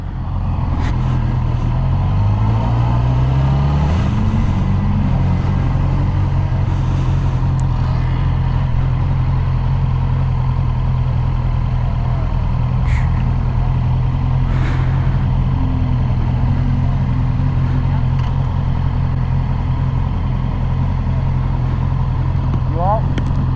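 Yamaha R6 motorcycle engine rumbling loud and close at a bike meet, with a rising rev early on, then a steady idle under people talking.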